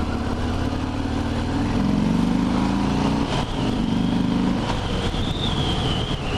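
A 2020 Harley-Davidson Fat Bob with the 107 engine rides along with a loud, steady engine drone, its pitch rising and falling through shifts, heard close and continuously.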